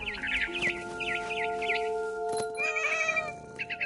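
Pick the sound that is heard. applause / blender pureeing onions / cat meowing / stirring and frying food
cat meowing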